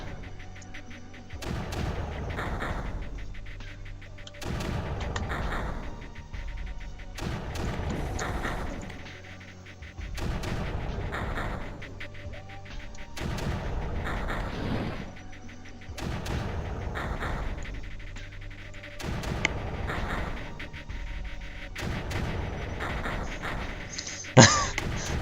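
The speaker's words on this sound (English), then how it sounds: "Blaster, blaster, blaster, blaster. There we go. Lots of blasters everywhere." Blaster turrets in the Creeper World strategy game fire in loud, regular bursts every couple of seconds, with thumps repeating steadily and no talk over them.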